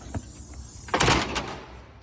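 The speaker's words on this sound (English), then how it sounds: "Close this door." Inside a house in Edgewater, New Jersey, a door is pushed shut with a muffled thud and rattle, preceded by a few soft knocks of handling in a quiet room.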